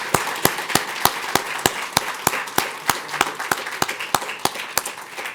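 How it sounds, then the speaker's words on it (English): A university alumni event audience claps for President Cantwell and Dr. Heravi, a steady run of crisp, evenly spaced claps, close and distinct rather than a dense roar, with no talk over them. "One more time, a round of applause for President Cantwell"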